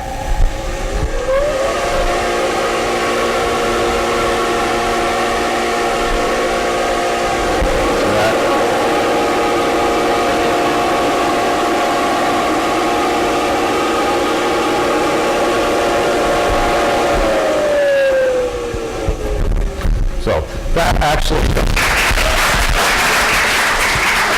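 A vacuum cleaner's exhaust blows a strong stream of air in a physics demonstration, a loud, steady motor whine and rush of air that spins up at the start and winds down near the end.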